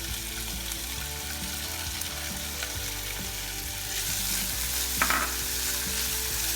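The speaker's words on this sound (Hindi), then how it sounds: "मैं इसमें अब चिकन ऐड करूंगी जो हम इसकी टॉपिंग के लिए यूज करेंगे।" Chicken fries in two tablespoons of oil with a close, constant sizzle that crackles and pops throughout, grows slightly louder midway, and comes with a brief stirring scrape.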